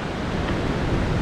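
Ocean surf on a north coast road trip, a loud broadband wash of breaking waves mixed with wind buffeting the microphone, continuous and close with no voices.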